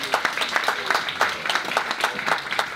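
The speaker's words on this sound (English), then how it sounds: "please, a round of applause" Audience at a cancer charity event raffle draw giving a round of applause, a moderately loud scatter of individual claps with a few distinct sharp hits standing out, no talking.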